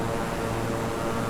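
Steady turboprop drone of a Beechcraft King Air 350i in Microsoft Flight Simulator, a dense, even cabin roar with a low hum, continuous and unchanging over a brief stretch with no talk.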